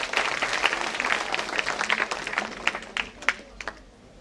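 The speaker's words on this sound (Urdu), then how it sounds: "آپ حضرات تالیوں سے استقبال کیجئے." An audience at a formal gathering breaks into applause to welcome a speaker to the stage, a sustained dense clapping that thins into scattered claps toward the end.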